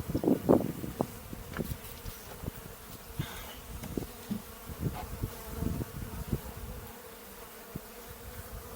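Honey bees from a small fall swarm cluster buzz softly and continuously close by. Some individual insects rise louder over the hum now and then, and light rustling and handling knocks are mixed in, with no talk.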